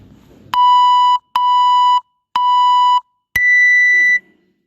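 A timer beeps four times at a steady pace at a sports event, each long electronic tone loud and clear. The last beep is pitched higher than the first three, and there is no talk over the beeps.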